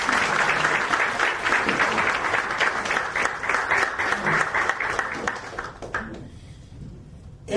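Sustained applause from an audience at a conference on constitution, democracy and electoral laws, steady and loud for about six seconds before it fades away quickly.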